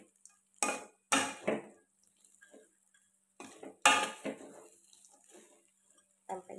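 Tempeh pieces and spices get stirred in a pan with intermittent clinks and scrapes of a utensil against metal. The bursts are brief and close, separated by quiet pauses.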